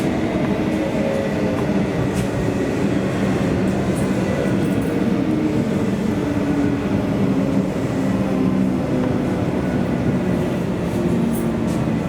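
Comeng suburban train pulling into Footscray station, a steady loud rumble of wheels and carriage noise throughout, with continuous low-frequency drone and no speech.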